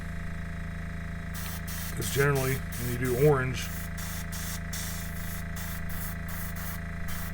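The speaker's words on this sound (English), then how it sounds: "So you can kind of lightly mist it if you want to, but you don't want to get the whole thing" Spray paint is misted onto a 1995 Chevrolet Monte Carlo model car body in a steady hissing stream, broken by short repeated bursts near the end, with someone talking over it.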